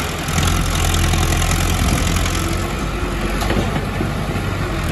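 A tractor engine idles steadily and close by at a loading competition between a John Deere 4×4 and an Arjun 555 4×4, a dense low rumble holding level throughout with no talk over it.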